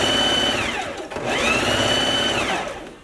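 A sewing machine runs close and steady, topstitching the seam of a lined coat in off-white thread. Two whirring runs rise and fall in pitch, with a short pause between them.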